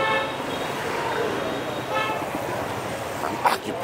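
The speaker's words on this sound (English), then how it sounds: "Honk all you want." Car horns toot over dense Hanoi street traffic and steady motorbike and engine noise, with people talking over the din.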